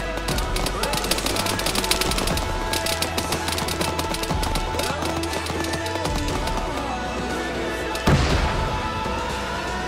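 Tank cannon and automatic weapons fire pounding a base in the ARMA 3 Exile mod, a dense continuous barrage of rapid shots with a heavier blast near the end.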